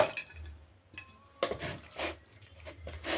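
Chicken panée pieces are stirred into a marinade in a bowl, giving a few soft, irregular utensil clinks and light wet scraping knocks, faint and close.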